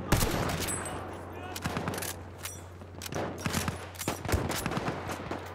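Rapid bursts of gunfire in a Battlefield 1 Conquest match in the Sinai Desert, with repeated sharp shots and automatic fire over a steady low engine drone from tanks, loud and close throughout.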